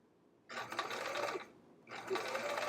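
Two bursts of a sewing machine stitching along a quilt seam, each running about a second, separated by a brief pause, close and steady against a quiet room.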